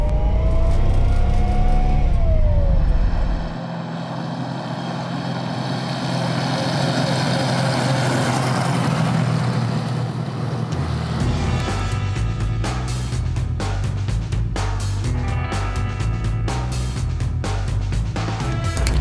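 A GAZ-66 Barkhan 4x4 truck accelerates with a loud, continuous engine roar that rises and swells, staying close and steady throughout with no voices over it.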